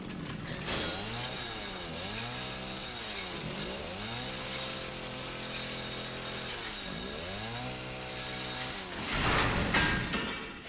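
A chainsaw roars in Resident Evil 7, revving up and down in several long cycles, loud and close, with no talking over it.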